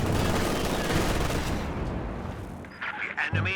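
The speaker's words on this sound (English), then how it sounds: "Such good rate of fire now on these 2 vehicles." Tank guns in Company of Heroes 2 fire in a dense, rolling barrage of game gunfire and explosions that fills the first seconds loudly, then thins out into scattered closer impacts.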